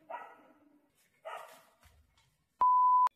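Dogs bark twice, short and moderately close, followed by a faint low grunt and a clean electronic beep tone lasting about half a second.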